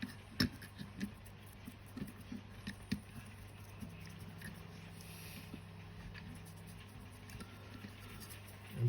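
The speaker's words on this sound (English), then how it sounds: "Still raining, so I do apologise for the background noise." Rain falls steadily outside as a soft, continuous patter, fairly quiet, with a few scattered knocks and drips standing out over the hiss.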